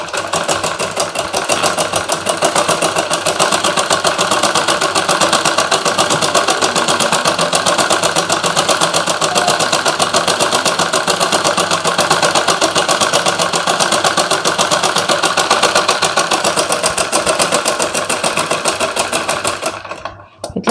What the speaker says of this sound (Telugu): ఇట్లా కుట్టు పెట్టుకోవాలి.